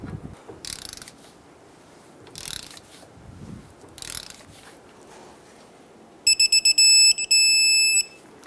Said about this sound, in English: So we're going to tighten these down to 35 foot-pounds.